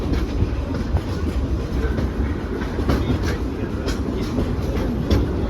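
A speed train riding on its rails toward a tunnel, a steady loud rumble with faint clickety-clack of the wheels and a continuous rushing roar throughout.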